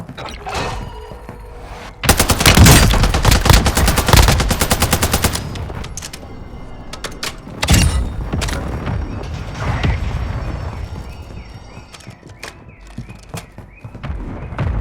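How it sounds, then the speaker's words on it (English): Airstrike in the Warzone shooter game: rapid heavy gunfire and a string of booming explosions, loud and dense for several seconds, then scattered thuds and shots with game effects trailing off. "Hostiles called in an airstrike."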